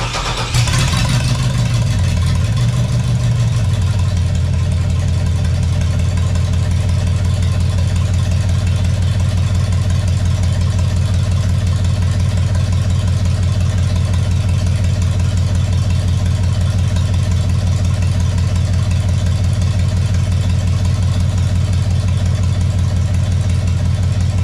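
An LS engine in a car named Brit cranks briefly, catches, and settles into a loud, steady, close idle that runs unchanged for over twenty seconds, with no talk.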